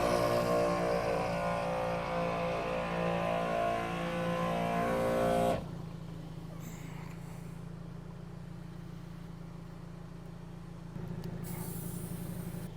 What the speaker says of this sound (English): So I turned the truck on just to be safe.